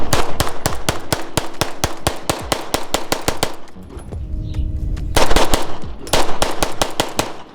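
A cheap 2011 pistol fires a rapid string of loud, close gunshots in even rhythm, pauses briefly, then resumes with more quick shots, no talking.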